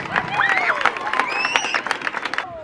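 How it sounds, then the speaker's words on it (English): An audience applauds two elementary schools at an evening event with a lively burst of clapping and cheering. Excited voices and whoops rise above the steady claps throughout, fading sharply at the end. "Let's give them a round of applause, Laurel and Longfellow Elementary"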